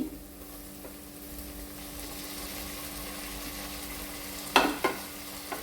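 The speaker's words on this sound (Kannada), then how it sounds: "ಟೊಮೆಟೊ ಕೂಡ ಚೆನ್ನಾಗಿ ಫ್ರೈ ಆಗಬೇಕು" Tomatoes fry in a pan for a spicy prawn gravy, giving a soft steady sizzle with a low hum beneath, broken near the end by a couple of sharp scrapes as the mixture is stirred.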